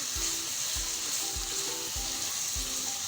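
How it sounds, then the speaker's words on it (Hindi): Minced meat (keema) with ginger-garlic paste fries in a pan over a medium-high flame, giving a dense, continuous sizzle broken by regular scraping stirs about every half second. "अब हम कीमे को इतना फ्राई करेंगे कि कीमे का जो पानी है वो अच्छे से ड्राई हो जाए"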